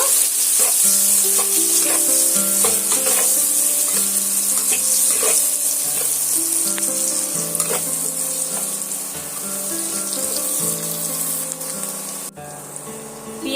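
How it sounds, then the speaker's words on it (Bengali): Two medium chopped onions fry in hot oil for a soya chunk curry, giving a loud continuous sizzle with periodic spatula scrapes, while quiet music plays in the background. "পেঁয়াজ নিয়েছি এখানে দুটো মিডিয়াম সাইজের কুচে নিয়েছি সেটা আমি তেলের মধ্যে দিয়ে দিলাম"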